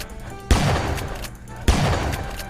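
A pump-action shotgun fires twice in the online game Mad City, each loud blast about a second apart and followed by a sustained echoing roar that fades before the next shot.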